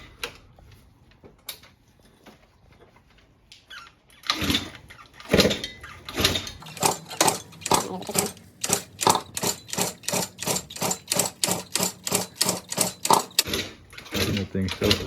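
A 1989 Yamaha PW-style 70cc mini dirt bike engine with a new carburetor and exhaust is cranked over repeatedly: a close run of sharp, evenly spaced mechanical strokes that does not catch, with a few quiet voices around it.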